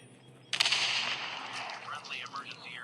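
Gunfire in the Call of Duty video game: a sudden loud burst of shots starts about half a second in, then continues as dense rapid firing under busy game sounds.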